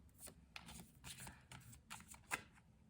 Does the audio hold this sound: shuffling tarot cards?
yes